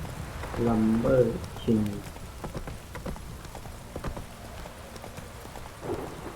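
Roach, the horse in The Witcher 3, gallops in quick rhythmic hoofbeats amid pattering rain, while someone talks over the start.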